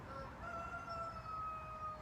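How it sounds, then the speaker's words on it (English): Rooster in a downtown Central Florida neighborhood crowing nearby, a single faint, drawn-out call over quiet background noise. "But I do have chickens all around me too."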